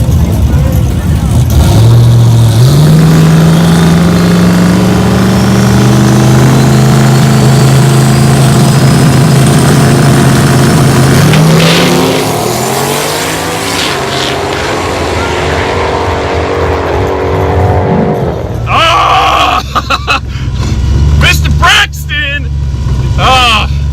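A loud race car engine revs up and climbs in pitch, drops back and rises again, then gives way to rougher noise and voices near the end.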